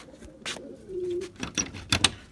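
Young pigeons give soft, low cooing calls, one steady coo near the middle, with a few brief brighter rustles and chirps around them, close and fairly quiet.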